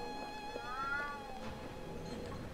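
A white cat meows in the video game Alice Madness Returns, one drawn-out rising and falling cry heard softly over a faint ambient background.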